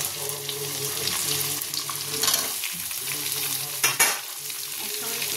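Onions and capsicum sizzling and frying in a pan for chilli chicken, with steady frying hiss and the scrape of stirring throughout, plus a brief louder clatter near the end.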